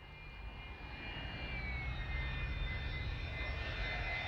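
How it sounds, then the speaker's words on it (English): NASA's converted U-2 spy plane, a research aircraft returning to its Norwegian base, drones steadily in flight with a faint, even engine roar and a thin whine that slowly falls in pitch. "A converted U-2 spy plane, NASA's most advanced research aircraft, is returning to its Norwegian base"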